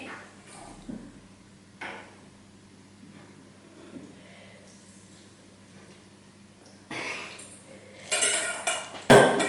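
Coconut, icing sugar and beaten eggs being mixed in a bowl, with faint utensil clinks and scraping through most of the clip, growing louder and busier toward the end with a sharp knock at the close.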